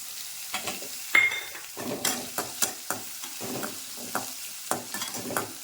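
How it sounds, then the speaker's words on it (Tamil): Moringa leaves with garlic being sautéed in a pan, a soft sizzle underneath repeated scraping stirs of a spatula at an irregular rhythm, close and fairly quiet. "எல்லாம் போட்டு நல்லா வதக்கணும் இது கூட நாலு பல் பூண்டு"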